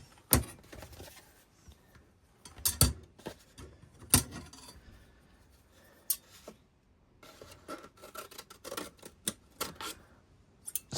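A Sheffield-made cutting tool is tested on material, producing a series of sharp, close snips and clicks at irregular intervals, with quiet pauses between the cuts.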